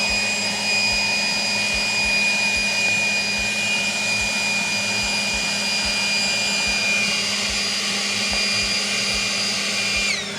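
A Ryobi 40-volt turbo cordless leaf blower runs continuously at close range, a steady loud whine with rushing air that holds nearly unchanged for about ten seconds.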